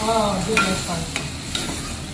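Water poured into a sizzling kaju gathiya curry in a pan: steady frying hiss with stirring scrapes, close and fairly loud, a few brief clinks.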